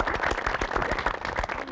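Lively audience applause on an Indonesian TV game show, dense rapid clapping from a crowd, loud and steady throughout the short burst.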